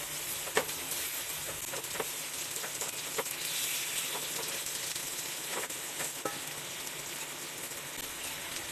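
Food sizzles steadily in a pan on a medium flame as it is flipped over, a continuous close frying hiss broken by a few sharp scraping clicks, with no voices.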